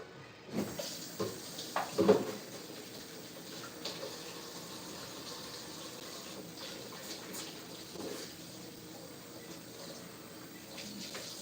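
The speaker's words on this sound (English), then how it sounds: "This buttermilk I need to rinse out." Tap water runs into a buttermilk container being rinsed in a kitchen sink, a few splashy sloshes early on, then a steady quiet stream with no talk.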